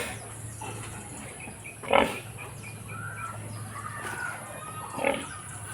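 A boar pig on a farm gives two short, low grunts several seconds apart, the first stronger, over a steady hum of background noise with no talking.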